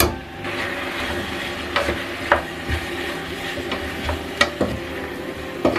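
Potatoes, carrots and shimeji mushrooms stir-fry in a pan with a steady close sizzle, broken by repeated scraping stirs of a utensil.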